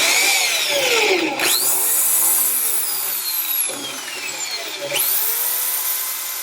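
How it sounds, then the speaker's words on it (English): A power drill with a 1/8-inch bit whines loudly and steadily, its pitch dropping and rising as it drills out metal spot welds, with a couple of brief pauses between bursts. "So I've got to drill out the spot welds"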